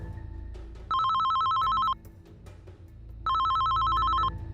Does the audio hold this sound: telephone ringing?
yes